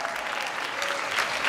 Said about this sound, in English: So kindly give a round of applause.